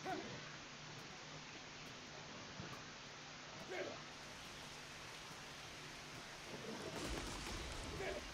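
Steady rain pattering as a constant wash of hiss, with a few brief louder bursts and a swell near the end.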